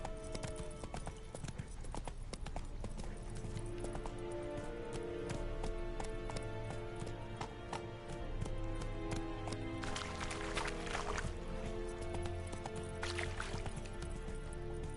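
Galloping hooves of Roach, a horse in a video game, pound in a steady clip-clop rhythm throughout, loud and close over background music with splashy bursts midway.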